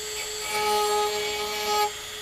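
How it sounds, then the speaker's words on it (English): A Dremel rotary tool whines at a steady high pitch while sharpening a Homelite hedge trimmer blade, a thin constant buzz close by with slight rises in load, no talking. "the Dremel makes it a lot quicker"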